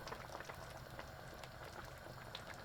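Soft, steady bubbling of hot and sour soup with tofu and cornstarch boiling in a pot, quiet and continuous with tiny irregular pops.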